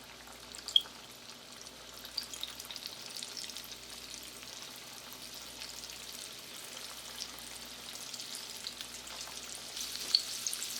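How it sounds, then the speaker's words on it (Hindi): Prawns frying in hot oil in a pan, a steady, fairly quiet sizzle and crackle that runs throughout with occasional small pops and no talking. "चलिए अब प्रॉन को फ्राई करते हैं और आपको दिखाते हैं।"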